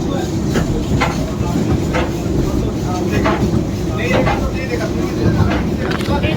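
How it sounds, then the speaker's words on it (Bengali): The Darjeeling Himalayan Railway toy train runs slowly on its tracks between Siliguri and Rongtong, giving a steady rumble close by, with regular rhythmic wheel clacks and rattles throughout. "ট্রেনের স্পিড যেহেতু খুবই কম, তো আমাদের মোটামুটি 1 ঘন্টার মতন লাগবে।"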